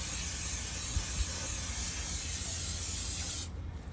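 A small nozzle sprays water under a flood-damaged vehicle with a strong, steady hiss that stops shortly before the end.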